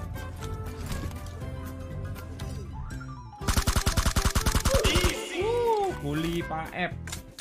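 Rapid automatic gunfire from a new weapon being tested in the PUBG Mobile zombie event, a dense loud burst of repeated shots following game sounds and a voice talking.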